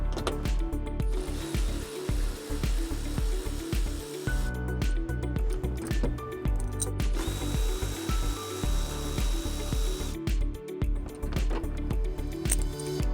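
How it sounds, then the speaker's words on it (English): A ratchet with a 10mm socket loosens the cargo hooks in the cargo area of a 2017 Chevrolet Trax, giving rapid close clicking bursts with short pauses in between and no talk. "We're going to use a 10mm socket."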